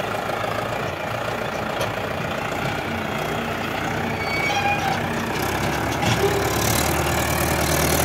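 A Mahindra 575 XP Plus tractor engine running steadily, a continuous low diesel rumble heard close up, rising slightly louder near the end.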